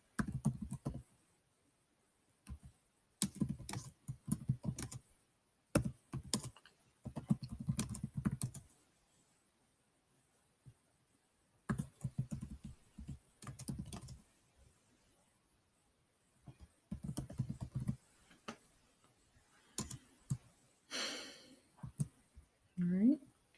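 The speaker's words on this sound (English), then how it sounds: "my typing" Bursts of rapid keyboard typing come in short runs separated by pauses, close and fairly quiet, with a brief sigh near the end.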